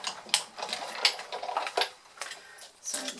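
An electronic cutting machine works through an acetate sheet cutting an octopus shape, a close, busy run of rapid ticking and whirring motor movements with uneven bursts, no voices.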